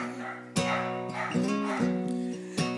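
A dog barks and yips in the background, several strained, whining barks repeating steadily over a few seconds with no talking.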